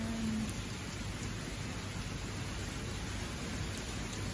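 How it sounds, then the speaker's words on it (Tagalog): Heavy morning rain pours down in an unbroken broadband hiss, steady and fairly close, with no voices over it. "Ang lakas talaga ng ulan pero hindi mo siya makikita kasi medyo madilim."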